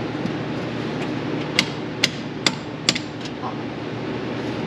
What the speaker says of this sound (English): Try tapping that with a hammer, see if it goes down.